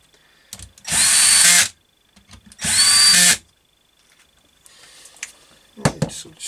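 Power drill on its lowest setting driving screws during a Husqvarna CT65 / KTM SX65 engine rebuild, two loud close bursts of about a second each with quiet gaps, followed by faint clicks and handling noise.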